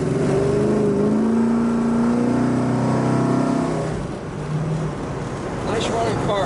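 A 1972 Plymouth Road Runner V8 pulls away down the road, its engine note rising steadily and loud for several seconds, then easing off as a passing rush briefly takes over.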